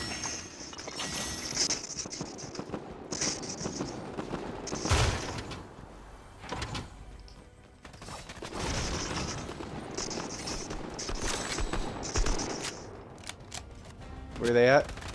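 Gunfire bursts in Fortnite No Build, several short volleys and booms spread across the stretch, mixed with game effects and someone talking now and then.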